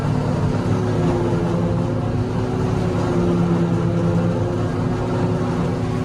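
A loud, steady mechanical drone with a constant low hum from a maize silage chopping machine running nearby, feeding maize through and blowing it into a trolley.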